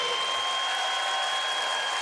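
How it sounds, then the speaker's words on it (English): A basketball crowd in Hartford applauds a freshman's free throw at a UConn exhibition game, a loud, steady wash of clapping through the whole moment. "The crowd showing their appreciation."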